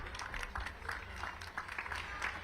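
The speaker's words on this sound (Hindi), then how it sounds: "जोरदार तालियां।" Audience applause at a Sahitya AajTak launch of a hardcover biography of Talat Mahmood: a sustained, fairly even crowd clapping that fills the room, with scattered louder claps, heard at a moderate distance.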